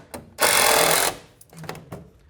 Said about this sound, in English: you set the screw, you get to a certain point, it'll push away